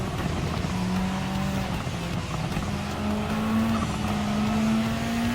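An AMG Mercedes GT3 race car roars through a GT Cup Gr.3 race in Gran Turismo 7, a loud continuous engine drone whose pitch climbs steadily as it accelerates, with tyre and track noise underneath.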